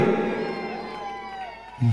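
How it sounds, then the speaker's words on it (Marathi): Spectators at a kabaddi match cheer and shout together in a sustained crowd roar, fairly loud and continuous, with a brief louder burst at the end. "असा रसिकांचा जल्लोष पाहिजे"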